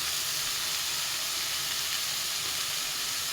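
Mustard seeds and green beans sizzle steadily in a hot pan, a dense continuous hiss with faint crackles running without pause, close up and alone.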